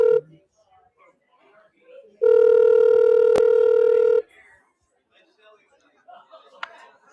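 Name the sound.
telephone dialing to call a guest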